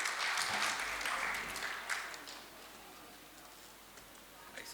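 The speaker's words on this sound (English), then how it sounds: "audience, please give him a round of applause and welcome" An audience at a plenary session on power distribution sector reforms applauds to welcome a speaker, a broad wash of clapping that is strongest at the start and fades over the following seconds.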